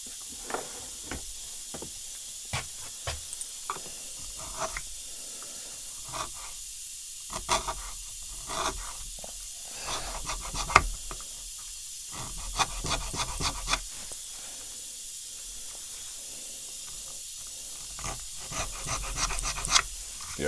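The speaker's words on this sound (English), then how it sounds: "Scraper in here and see if that'll relieve us a little bit better." A scraper worked along a fragile wooden Remington 11-87 shotgun forend held in a vise: repeated close rasping, scraping strokes over a steady hiss, uneven in rhythm, with no talking.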